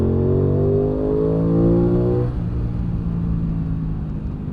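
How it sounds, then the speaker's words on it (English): Aprilia Tuono 660 motorcycle accelerating as the throttle opens progressively, a loud engine tone rising steadily in pitch for about two seconds before dropping into a lower rumble, heard over wind noise. "But if you open up the throttle progressively,"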